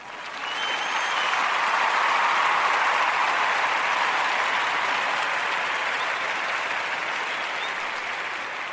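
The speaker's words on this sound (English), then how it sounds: "Let me give them a round of applause." A crowd breaks into sustained applause for young scholarship winners, the clapping swelling quickly and holding strong and even for several seconds before easing slightly.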